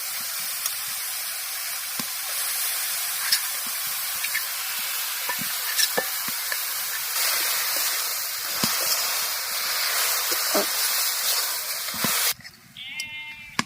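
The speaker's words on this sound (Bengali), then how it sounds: "ঘিয়ের মধ্যে লাউ আমি 3 থেকে 4 মিনিট ভেজে নিয়েছি। এবার দিয়ে দেবো গ্রেট করা পাটালি।" Bottle gourd and grated jaggery stirred in ghee in a pan, a steady hiss of frying with intermittent spoon scrapes and knocks, ending abruptly near the close.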